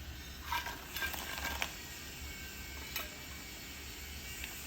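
Dried river fish curry is stirred gently in a pot, with a few soft scraping strokes and light clinks over a faint simmering background, quiet and close.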